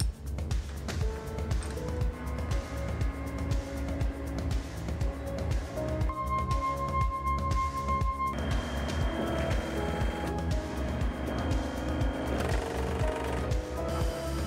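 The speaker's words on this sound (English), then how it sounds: "we run it in the dyno." An Öhlins shock absorber that has not been serviced in a while runs on a dyno, giving a steady loud mechanical pounding with a fast repetitive rhythm and a tonal whine that shifts partway through, with no talking.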